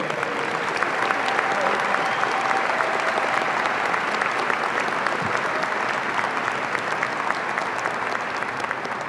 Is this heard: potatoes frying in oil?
no